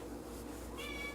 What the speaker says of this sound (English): And that's my cat Daisy in the background.